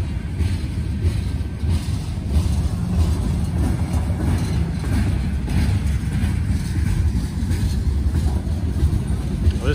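A long freight train rolling past nearby, a continuous heavy rumble with steady low mechanical roar and rail noise throughout, no break in the passing cars.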